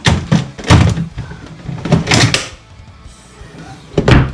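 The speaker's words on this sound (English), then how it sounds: "let's see if the drawer fits" A drawer being fitted into place and pushed shut, giving a series of close, loud wooden knocks and thuds in uneven bursts, with a short quiet pause before a final bump.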